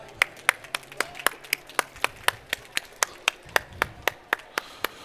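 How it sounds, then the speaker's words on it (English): A single person clapping at a live-streamed hair and beauty product show, a steady, evenly spaced run of sharp, close hand claps with a bit of quiet background noise. "Can you give a big round of applause, please, to Nicole, our model?"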